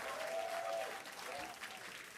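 A crowd cheers and claps at a SpaceX Starship Flight 5 launch watch event after the no-hold call. The applause is faint and distant, with a steady wash of clapping and a few voices over it.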